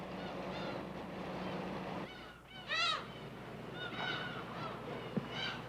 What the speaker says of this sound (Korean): 절벽을 가르며 장엄하게 우짖는 갈매기 소리가